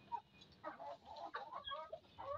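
Chickens and a rooster cluck in short, close bursts, several calls following one another in a quiet setting.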